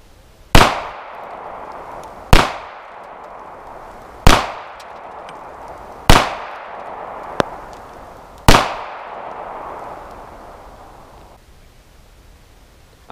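A Smith & Wesson Model 36 revolver fires five Remington .38 Special 158-grain round-nose lead rounds, non +P, each a loud, sharp crack with a ringing tail, spaced roughly two seconds apart with no talking.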